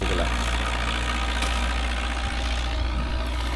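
A tractor trolley engine idles at a sugarcane field being harvested for a sugar mill, giving a steady, close, low rumbling hum with no talk.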